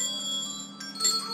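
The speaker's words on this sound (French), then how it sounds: "appuyer sur des cloches" Bells pressed during a children's music session ring out in a short, steady bright tone that sustains throughout, with a second strike brightening near the end.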